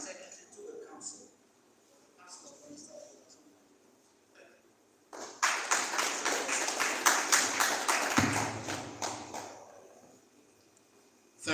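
Applause at a builders' conference: after quiet speech from a man, a crowd claps loudly and steadily for about five seconds, then the clapping fades as he talks again.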